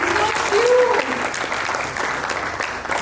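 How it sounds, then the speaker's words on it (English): Audience at an entrepreneurship business conclave applauding, a full, steady round of many hands clapping, with a brief voice rising over it early on. "Can we have a bigger round of applause?"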